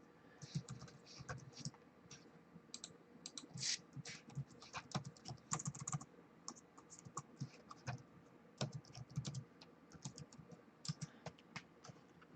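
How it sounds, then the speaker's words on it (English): Someone types on a computer keyboard during a live auction, producing a quiet, close run of irregular key clicks with short pauses throughout. "I can type that in."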